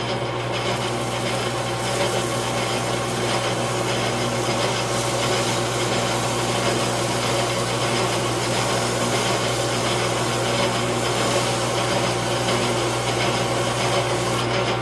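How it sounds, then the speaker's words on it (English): A Farmall 450 tractor engine valve is sanded with sandpaper during a valve job, producing a steady, close abrasive rasping over a constant mechanical hum. "If you really want to get a nice finish, put a piece of sandpaper on there."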